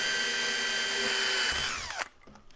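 A power drill whines loudly and steadily, boring a hole in a plastic pen blank, then winds down and stops near the end, leaving near silence.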